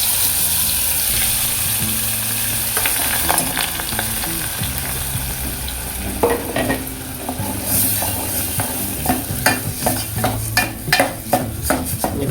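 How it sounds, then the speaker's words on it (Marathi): A ground masala paste of coriander, fennel and garlic is fried in a pan for Konkani fish curry, with a constant close sizzle and louder rhythmic scraping stirs that build toward the end, and no talk. "आता इकडे वाटण फोडणी घेता पहिला."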